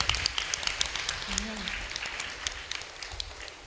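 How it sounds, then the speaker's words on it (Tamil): A church congregation claps together, a dense, steady patter of many hands that holds at moderate level throughout, with a brief low voice heard faintly beneath. "கைத்தட்டு"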